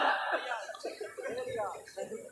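A man imitates an old father's coughing with his voice, a quick run of rough, throaty cough-like bursts spoken up close, as if mimicking a feeble elderly cough.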